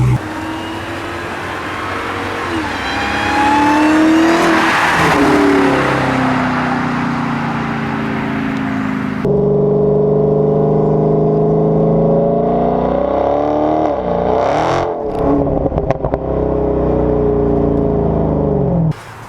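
Dodge Hellcat with an Active Exhaust Solutions exhaust, revving up and down in a loud, close V8 roar with rising and falling sweeps, a sharp blip near the end, no talking over it.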